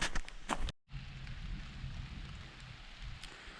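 Rain falls outdoors at home in November as a soft, steady patter, faint and close, briefly cut by a short silence near the start.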